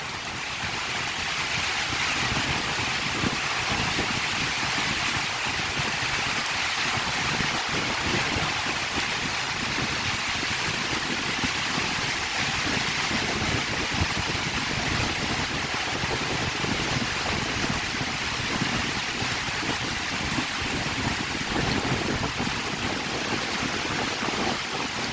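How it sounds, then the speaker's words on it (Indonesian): Strong wind and rough waves batter a boat in heavy rain, a dense, steady roar of gusts and water filling the whole stretch with no pause and no talk. "Kencang sekali sobat anginnya."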